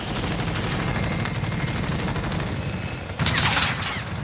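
Gunfire in Call of Duty Warzone: steady, rapid automatic bursts, loud and close, running continuously with a sharper, heavier burst near the end.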